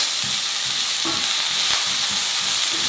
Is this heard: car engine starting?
no